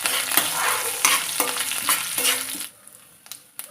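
Lentils and dried red chillies fry in oil over a medium flame, a dense close sizzle with a few spatula stirs, then the frying sound drops away suddenly near the end.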